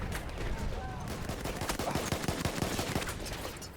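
Rapid scout rifle fire in the Battlefield 1 video game, a quick run of sharp shots in close succession over loud battlefield ambience, with faint voice underneath.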